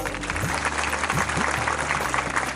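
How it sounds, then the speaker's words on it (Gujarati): An audience at a religious idol consecration gathering claps together in a burst of steady, dense applause, loud and close, with faint voices mixed in. "કપિલ સ્વામીના ગુરુને એકવાર તાળીના નાદથી વધાવો"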